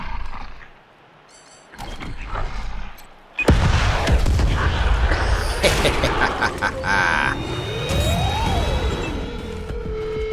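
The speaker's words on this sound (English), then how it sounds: "you can use the rocket launcher to start off this." A rocket launcher fires in Wasteland 3 combat, setting off a sudden loud explosive boom that gives way to a dense roaring rumble, crackling debris, and a rising and falling synthetic tone, following a quieter stretch with a few sharp hits.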